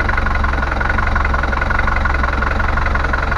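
The inboard engine of a Bavaria 38 sailboat idles steadily while warming up, a loud, even diesel chug with a fast regular knock and no break in its rhythm.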